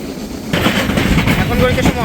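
Padma Express intercity train pulling into Ullapara railway station, a low rolling rumble that jumps louder after a quiet start, with rattling carriage noise and a faint high squeal of wheels near the end.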